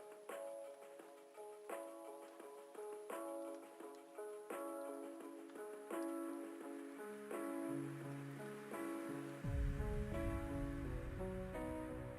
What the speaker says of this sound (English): this particular song has like the sound of rain in the background at the very start